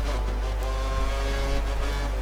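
A glitching Formula 1 car engine in the racing game F1 2013, a constant droning buzz with a stuck, looping tone that holds loud and unbroken from start to finish.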